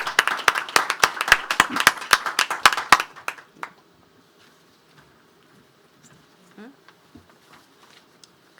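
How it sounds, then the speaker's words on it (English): An audience at a Rwandan customer-experience leadership event applauds. Dense, loud clapping runs for about three seconds and then cuts off abruptly, leaving a quiet room with a few faint murmurs. "let us give them a round of applause."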